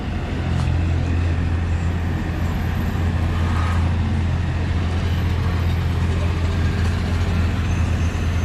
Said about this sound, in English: a UPS truck is about to run me over